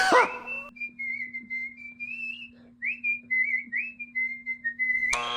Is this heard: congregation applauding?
no